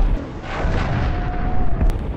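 A deep, rumbling explosion in the video game Rogue Invader booms loudly and fills the whole short moment, followed by a lingering low roar and a brief sharp crack near the end.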